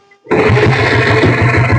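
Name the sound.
kick-starting a 1996 diesel motorcycle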